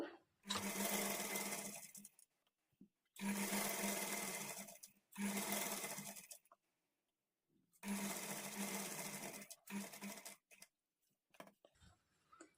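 A sewing machine stitches a blouse sleeve joint, running in four bursts of rapid mechanical whirring, each a second or two long, separated by short silent pauses, close and clear with no voices.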